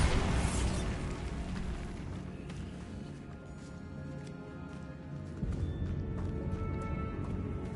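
A Bombarda spell detonating in Hogwarts Legacy, a loud burst at the start that settles into a sustained rumbling, crackling blast wash, with a fresh surge of debris noise near the end.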